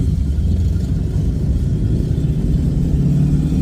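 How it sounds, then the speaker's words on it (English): A group of motorcycles rumbles past in a steady, low engine drone, fairly loud and continuous, with no talking. "There's a whole bunch of motorcycles right now."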